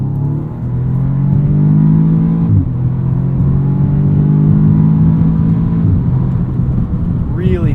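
A 2016 Audi S3 sedan engine revs loudly and steadily, with pitch climbing and then dropping sharply as the DSG gearbox snaps through quick upshifts, the drone running continuously near the microphone.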